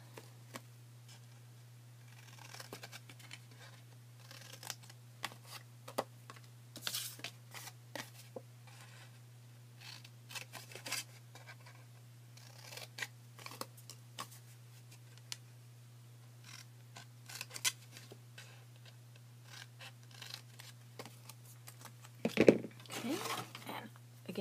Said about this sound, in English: Just using my scissors to make it nice and quick.